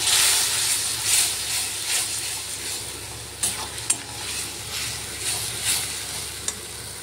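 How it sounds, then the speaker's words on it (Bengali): Chopped tomato and a little Kashmiri chili powder frying in a spiced paste with salt and turmeric, a steady close sizzle with stirring scrapes and a few sharper clicks and spatters, no talking. "এখন কেটে রাখা টমেটোটা দিয়ে দিচ্ছি, আর অল্প একটু কাশ্মীরি লঙ্কা গুঁড়ো দিয়ে দিচ্ছি।"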